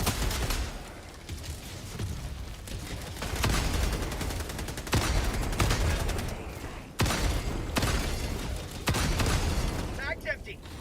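Video game weapon gunfire: sustained bursts of rapid automatic shots with short breaks between volleys, loud and close, with people talking over the shooting.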